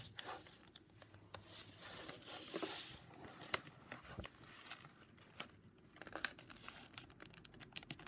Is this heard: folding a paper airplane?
yes